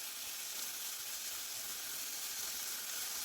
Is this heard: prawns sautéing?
yes